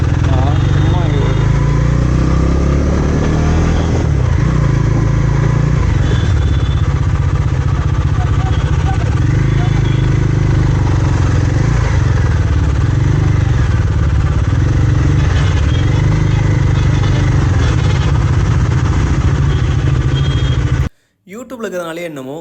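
A Bajaj Pulsar NS400Z motorcycle rides steadily with a loud, continuous engine drone and road rumble that holds for most of the stretch, then cuts out abruptly near the end.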